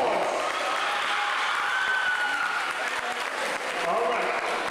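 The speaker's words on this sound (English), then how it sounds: "Give Unique a round of applause" An audience gives a sustained round of applause for a performer at a Brooklyn event, a dense wash of clapping with some crowd noise, held steady throughout.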